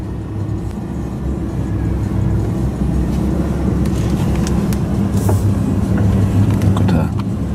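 A 2015 Lamborghini Huracan reverses slowly, its engine giving a steady, close, low rumble that runs throughout at even loudness, with no talking.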